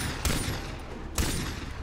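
Gunfire from a weapon in the video game Far Cry 3: two loud, sharp shots about a second apart, each a sudden broadband crack over a steady wash of background game noise.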